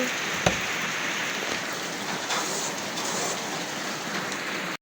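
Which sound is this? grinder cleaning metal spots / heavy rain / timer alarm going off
heavy rain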